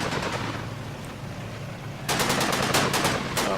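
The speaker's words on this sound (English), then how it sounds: "There's my heavy machine gun opening up on him." Heavy machine gun firing in the Combat Mission video game, a rapid burst of loud repeated shots breaking in over a constant rumbling battlefield background, close and dominant.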